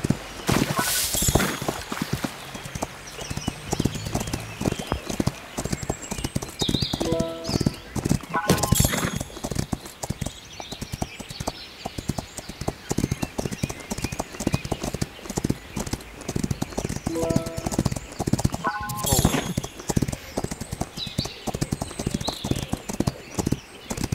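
A horse gallops through a video game hurdle race that includes water, its hoofbeats a rapid, continuous clatter with occasional whinnies and game sounds over the top.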